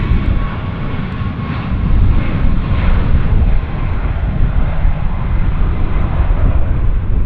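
A WestJet airliner in new livery passes at Vancouver YVR airport, a loud, steady, broadband engine roar that swells slightly midway and holds throughout, with no talk.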